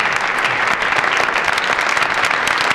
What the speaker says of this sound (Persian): خواهش میکنم که تشویقشون بفرمایید.